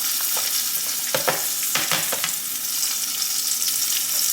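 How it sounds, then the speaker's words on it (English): Asparagus frying in a hot frying pan, a steady close sizzle with occasional sharper crackles and pops throughout, no voices. "just gonna add them to the frying pan and let them fry for 2 to 3."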